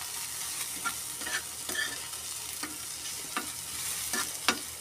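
Garlic and onion frying in hot oil, a continuous bright sizzle with regular scraping stirs of a spatula against the pan, close and steady throughout with no talking.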